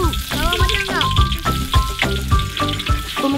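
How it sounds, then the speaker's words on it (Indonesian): Shallots, green onion and tomato sauté over an open fire for an Aceh-style crab dish, a steady close sizzle of frying with scraping stirs and clinks running throughout, while people speak over it. "Tumis bawang merah, daun bawang, dan tomat."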